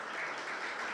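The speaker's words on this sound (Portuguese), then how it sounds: "Você pode aplaudir o Senhor Jesus por isso," Church congregation applauding during a Portuguese-language sermon, a dense, even wash of clapping heard alone for a brief moment.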